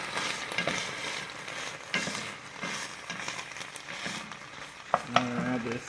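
A utensil scrapes and stirs chicken and steamed broccoli in a hot pan over a soft sizzle, with a few irregular scrapes and clinks.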